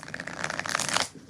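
A deck of tarot cards is riffled and shuffled in a quick, crisp flurry of papery flicks that builds slightly louder before stopping abruptly, heard alone and close.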